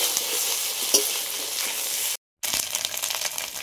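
Ginger and chili paste fries with potatoes in a pan, a dense, steady sizzle and crackle with stirring scrapes close by, briefly cut to silence before the sizzling resumes.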